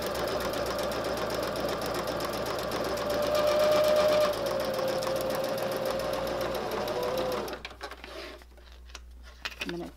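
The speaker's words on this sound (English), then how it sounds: "just stitch a straight stitch all the way down this seam" A sewing machine runs a steady, close straight stitch down a quilt seam for about seven seconds, then stops, leaving quiet handling noises.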